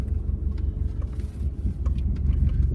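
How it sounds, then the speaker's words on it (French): Car idling with a loud exhaust at a dog park, a continuous low rumbling drone near and steady throughout, with faint scattered background noises. "excusez mon exhaust, mon véhicule fait beaucoup de bruit"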